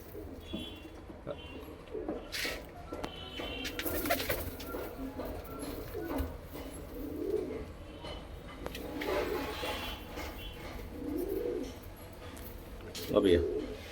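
Pigeons for sale, including Punjabi Malwai breeds, coo in soft repeated low murmurs with some chirps, close by, while someone talks over them throughout.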